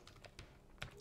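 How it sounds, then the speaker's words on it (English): Soft keystrokes on a computer keyboard while entering commands during an Arch Linux console setup, a handful of quick, close taps spaced unevenly over about a second. "I can type in again set font"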